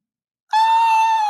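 One person gives a single sudden, sustained high scream after silence, loud and close, with no other sound around it.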